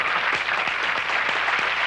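Studio crew clapping at a 1986 Jerry Lewis Muscular Dystrophy Telethon broadcast in Cleveland, a steady patter of hands from a modest group, fairly close, with no talk over it.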